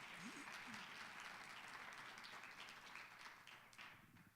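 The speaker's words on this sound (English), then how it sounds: "Let's give Justin Murphy another round of applause" Soft, distant audience applause after a talk at a conference, a steady patter of many hands continuing for several seconds before fading slightly toward the end.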